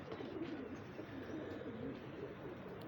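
A flock of golden pigeons coos in a low, continuous murmur, with soft overlapping calls rising and falling steadily throughout and no clear voices on top.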